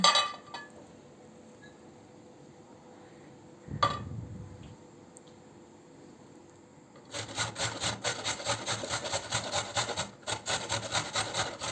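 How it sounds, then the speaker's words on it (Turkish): A carrot is grated on the fine side of a kitchen grater, with quick rhythmic rasping strokes in the latter half and a clink of utensils against a bowl earlier. "Havucu da güzelce rendeliyorum."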